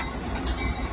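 A passenger train runs steadily along the rails, a close, continuous rumble with a brief bright squeal partway through.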